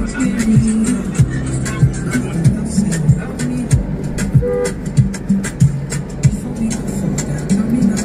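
A car rolls slowly through a residential estate in Lekki, Lagos, its engine a low close hum punctuated by regular thumps and clicks as it bumps along.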